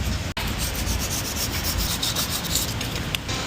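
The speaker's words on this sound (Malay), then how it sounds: "So kita gosok dulu." Steady, close scraping of an Aston Martin Vantage brake pad being sanded, a continuous gritty rubbing with a brief pause near the start, no voices.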